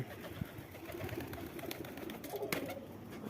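Soft, low cooing from pigeons inside a pigeon house comes in scattered calls, faint and close, with light rustling and knocks in the background.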